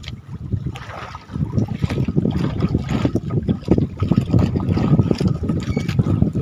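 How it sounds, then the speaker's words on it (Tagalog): Strong wind and choppy sea waves buffet a small paddled fishing boat off Masbate, a steady loud rumbling wash with gusting wind noise on the microphone and no talk. "Malakas yung alon mga Lods at hangin."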